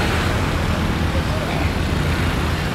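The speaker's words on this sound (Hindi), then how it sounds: "ये देखो कितनी स्कूटरी आ रही है, मेरे आगे भी पीछे भी देखो स्कूटरी।" Scooters and buses stream along a busy street in Vietnam, a dense, steady roar of road traffic close by with engine rumble throughout and no clear breaks.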